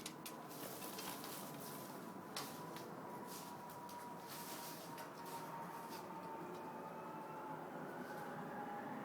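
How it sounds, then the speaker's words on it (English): A faint, steady broadband roar with a slowly shifting tone drones in the background, like an aircraft passing high overhead, joined by occasional light clicks. "Sorry for the plane noise."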